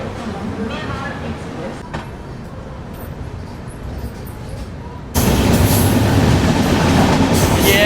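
A Humsafar Express rumbles over the New Delhi–Jhansi main line, a continuous rolling roar that jumps abruptly louder and brighter partway through as the cars pass close by.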